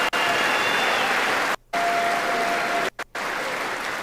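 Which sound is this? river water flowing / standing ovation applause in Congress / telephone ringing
standing ovation applause in Congress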